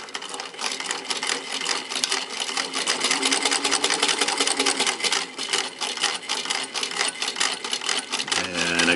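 A sewing machine stitching a fabric patchwork star ornament, a steady rapid mechanical clatter of needle strokes running loud and close throughout, ending with a brief shift in tone.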